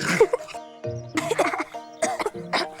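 Several harsh coughs come in short clusters, close and loud, with throat-clearing between them.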